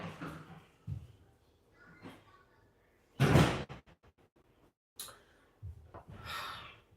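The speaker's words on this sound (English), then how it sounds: "Shut that door to the hallway." The door to a house's hallway shuts with one loud thud partway through, set among softer shuffling, breathing and small knocks in a quiet room.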